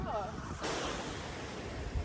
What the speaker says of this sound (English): She's gonna get hit by a wave.